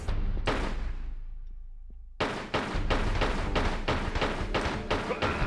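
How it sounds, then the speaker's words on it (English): A guard fires a gun in Tomb Raider 3's High Security Compound: a heavy thud fades out, then after a pause a rapid, regular run of sharp, punchy shots follows. "There's a guy over there with a gun shooting at me."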